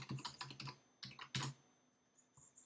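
Fingers tapping a password on a computer keyboard while setting up a user on Windows Server 2008, a quick run of close, quiet keystrokes in small clusters, then a pause and a couple of faint final taps.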